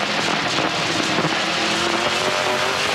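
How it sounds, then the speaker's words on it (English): NASCAR Pinty's Series race cars roar around the Toronto street circuit, a continuous engine drone heard from a distance with a faint tire-squeal edge and no voices. "Let's see if Cameron can get a better run through 11"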